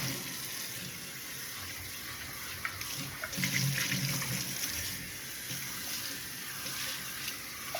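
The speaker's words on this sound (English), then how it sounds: "So you're gonna rinse that out." Tap water runs into a sink to rinse a hot pot that held spaghetti, a continuous soft splashing stream at close range, swelling slightly in the middle, with no talk over it.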